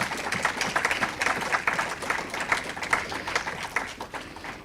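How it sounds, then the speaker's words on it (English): An awards ceremony audience claps for the honourees, a dense, sustained round of applause from many hands throughout, fairly loud and without speech. "Let's give them a final round of applause."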